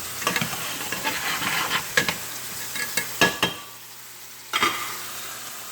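Chicken fries in olive oil in a pan, giving a soft steady sizzle, with several sharp scraping and stirring clicks from a utensil and a brief quieter stretch near the end.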